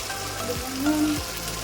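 Spices with tomato, salt and turmeric sautéing in a pan make a dense, continuous rain-like sizzle, steady and close, with a few faint knocks.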